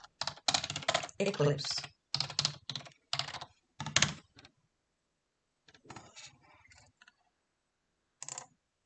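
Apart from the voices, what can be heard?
typing on a computer keyboard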